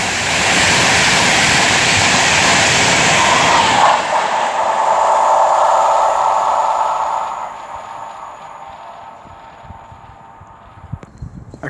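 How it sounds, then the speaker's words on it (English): Avanti West Coast Class 390 train from Glasgow Central to London Euston passing at Tamworth on the West Coast Main Line: a loud rushing roar with a steady rumble that fades away into quiet. "now approaching will be 390 12, working 1 Mike 14 from Glasgow Central to London Euston."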